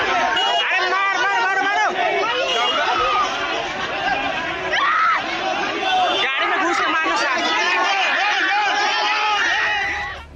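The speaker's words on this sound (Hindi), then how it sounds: "मारो मारो की आवाज गूंज रही है।" An agitated crowd in a street in Bihar chants and shouts together as police hold a young man, a loud continuous babble of many overlapping voices.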